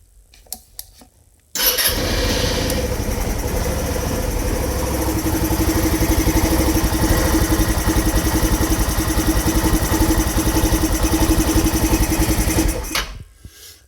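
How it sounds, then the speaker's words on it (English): An Apollo motorcycle engine cranks and catches, then settles into a loud, steady, close idle for about eleven seconds before cutting off abruptly. "As soon as I switch the bike on, yes, it starts."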